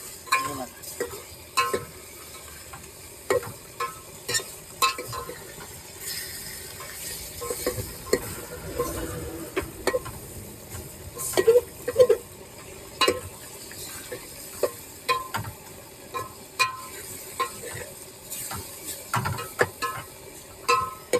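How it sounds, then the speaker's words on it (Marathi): Mutton pieces frying in hot oil and being stirred, a soft steady sizzle broken by repeated scraping clinks of a spoon against the pan, fairly close. "नुसता कपुराच नाही तर आता सर्व मटण जाणार तेलात"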